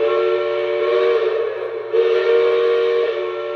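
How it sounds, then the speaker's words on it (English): A Lionel model train locomotive sounds its Big Boy steam whistle in a steady, chord-like tone. It holds for several seconds with a brief dip in the middle and stays close and fairly loud. "Well, there's our big boy whistle right there."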